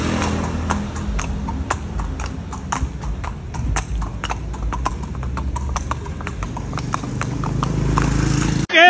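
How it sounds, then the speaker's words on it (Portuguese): Steady, even hoofbeats of a young horse walking, a clear close clip-clop repeating for the whole stretch with no talking over it. "Aquele meu cavalo bom"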